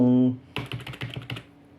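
Quick burst of about eight clicky keystrokes on a quiet RGB computer keyboard, close and crisp, following a brief hum at the start.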